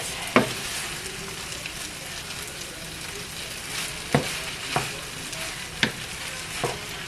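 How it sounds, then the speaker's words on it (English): Food stirred and mixed in a pan over a steady sizzle, with several sharp spoon-on-pan knocks scattered through, close and moderately loud. "then we just stir that up and mix it"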